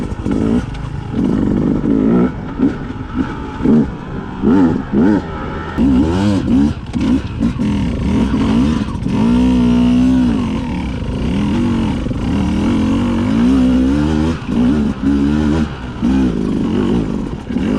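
A 2020 Beta 200 RR dirt bike climbs uphill in second gear, its two-stroke engine revving and bogging in uneven surges. The engine is loud and close throughout, with clattering from the terrain.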